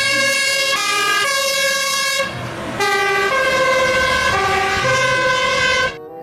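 A toy fire truck's electronic siren wails loud and close, sweeping through a stepped, harmonic-rich tone with a short break midway before resuming and cutting off at the end, no voices over it.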